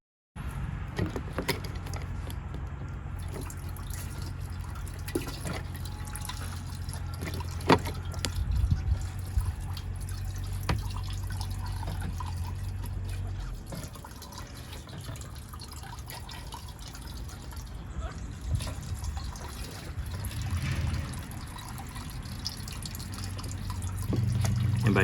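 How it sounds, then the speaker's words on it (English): A hand pump draws leftover fuel through a hose from a jet ski tank into a bucket, giving steady low gurgling and liquid trickles with scattered clicks and drips, close and continuous, no talk. "I'll carefully maneuver that hose a couple times to try to find any more fuel inside that tank and pump it out."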